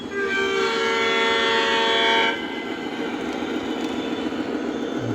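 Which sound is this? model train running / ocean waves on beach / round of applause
model train running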